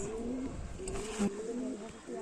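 Pigeons kept for sale coo softly in low, rolling calls that repeat throughout, quiet and close, with faint voices in the background.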